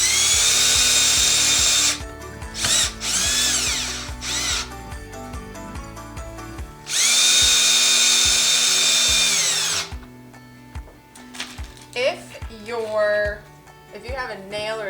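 A power drill with a Phillips bit drives one-inch screws through hinges into wood for folding craft fair display shelves, loud whirring bursts of a second or two, repeated several times, with a longer run near the middle and quieter handling sounds after.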